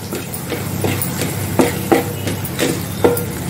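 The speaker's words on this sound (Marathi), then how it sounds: "मी साधारण 1 चमचा टाकल्यानंतर ते परतून घेते" Malvani masala sautéing in a pan for a spicy dry chicken dish, with a soft continuous sizzle broken by several scraping, tapping stirs of a spoon against the pan.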